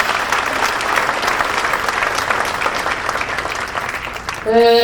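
Audience applause at a tribute ceremony honoring a poet in Lombinha da Maia, a dense steady crowd of clapping hands lasting several seconds before a voice starts speaking at the very end.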